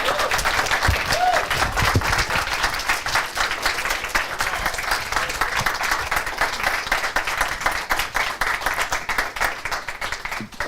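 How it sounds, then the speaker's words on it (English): Sustained audience applause after a song at a moon-phases astronomy event, many hands clapping in a steady, slightly uneven wash that runs on for several seconds, with a faint voice or tone briefly audible early on. "Check out the hang time on that applause."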